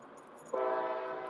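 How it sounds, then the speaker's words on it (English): Quiet rumble of a passing train, then a loud train horn cuts in midway and holds a steady, rich chord to the end, close and dominant. "I apologize for the train."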